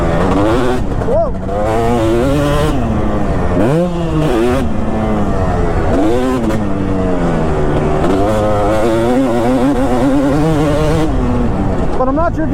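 A 2005 Kawasaki KX250 two-stroke dirt bike is ridden hard, its engine revving and dropping in sharp, rising and falling sweeps, loud and close throughout.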